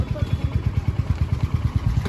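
A motorcycle engine chugs with a steady, rapid low thumping rhythm, fairly close and loud throughout.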